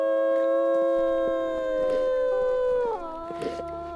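Crystal, a pack wolf, gives a long sustained howl with steady tonal harmonics that bends downward near the end, loud and close, with faint clicks and rustles underneath and no speech.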